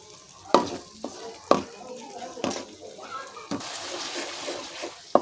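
Spice masala for rohu fish curry sautés in a pan, with a low sizzle under repeated sharp scraping strokes of a spoon roughly every second.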